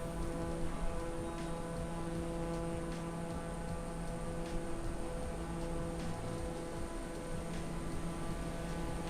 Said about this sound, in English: Scattered showers.